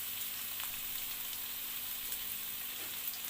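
Onions frying in oil and a spoonful of ghee in a pan, a soft, steady hiss of sizzling with faint crackles, close but quiet.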